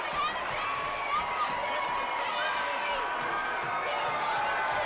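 Metamora basketball fans at a high school sectional game against Kankakee roar in a loud, continuous wall of crowd noise, steady cheering and yelling with no break.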